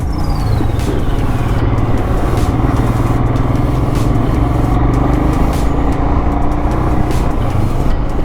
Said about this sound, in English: today's traffic is too much because it's a Saturday.